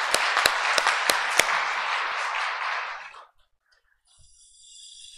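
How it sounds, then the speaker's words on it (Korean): Church congregation applauding during a Sunday service, a dense burst of clapping with a few sharp claps standing out, lasting about three seconds before fading into near silence. "저 위에 계시니까 우리 출산하고 건강하게 잘 자라기를 박수로 우리 응원하겠습니다."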